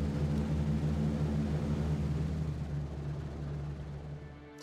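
A B-17 Flying Fortress in a video game taxis on the runway, its engines a steady, loud propeller drone and rumble that slowly fades toward the end.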